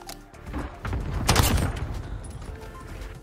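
A burst-fire gun in a first-person shooter fires in quick clustered volleys, with loud close cracks and thuds peaking in the middle and then trailing off into softer game noise.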